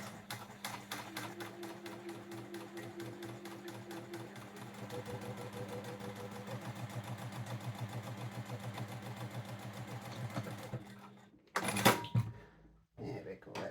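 A home sewing machine runs a steady, rapid stitching rhythm along a half-inch fabric seam for about eleven seconds, then stops with a short clatter as a voice speaks nearby.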